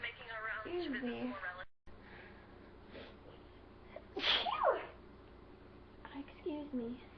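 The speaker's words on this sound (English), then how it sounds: "I have to sneeze." A person sneezes a few times, with sharp bursts of breath and voiced cries between stretches of talking and quieter pauses.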